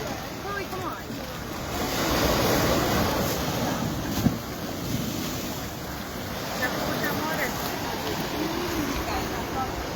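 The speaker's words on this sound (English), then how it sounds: "Can you guys hear the waves, and can you hear me okay and all that?" Ocean waves wash and break in a steady surging rush at Waikiki, Hawaii, heavy wind buffeting the microphone throughout, with a faint voice in the background.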